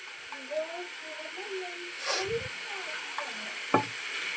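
Eggplant pieces being stirred with ginger garlic paste in a pan, a soft sizzling hiss with scraping stirs and a couple of sharper clinks, close and steady throughout.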